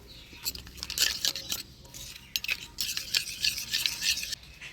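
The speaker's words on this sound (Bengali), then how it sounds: "মশলাটা জল দিয়ে ভালো করে গুলে নিলাম।" Chili, cumin and coriander powder being mixed with a little water in a bowl, giving fast, close scraping and swishing strokes of a spoon in repeated bursts.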